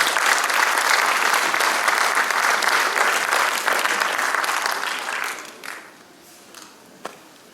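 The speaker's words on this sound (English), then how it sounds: "Give her a round of applause." Audience applause at a Tongan language celebration in Aotearoa, a dense steady clapping that fills the room for about five seconds, then fades to a few scattered claps.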